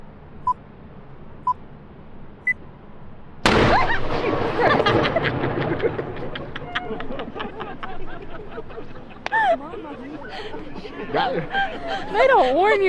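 Edinburgh's One O'Clock Gun fires once with a sudden, loud boom after a few faint beeps, followed by a rolling echo, startled chatter and laughter from onlookers nearby.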